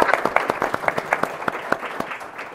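Audience applause at a National Girls & Women in Sports Day panel welcoming a panelist, a lively scatter of distinct, fairly sharp claps from a modest crowd, steady before easing slightly toward the end.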